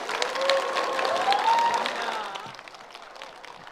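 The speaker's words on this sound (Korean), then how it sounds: "긴 시간 함께 해주신 두 분께 여러분 뜨거운 박수 부탁드립니다." Warm audience applause closes a talk concert, with dense clapping and a few high whistles or cheers over it, strong at first and then gradually tapering off.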